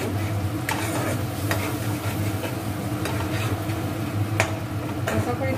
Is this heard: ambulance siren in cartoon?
no